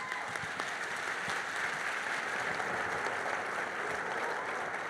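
A crowd at a national gathering claps together after a testimony, continuous dense applause at a steady even level from start to finish.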